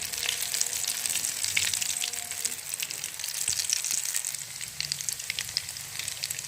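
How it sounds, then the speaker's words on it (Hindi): Aloo tikki, potato patties coated in bread and egg, sizzling gently in oil over low heat, a soft steady crackle with scattered pops and faint utensil stirring, no voices. "हमने हल्की आंच पे कर रहे हैं इसे फ्राई"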